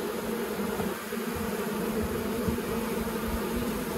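Honey bees at an open, queenless hive in the countryside, a dense continuous buzzing hum from many insects, close and steady for the whole stretch, with no voices.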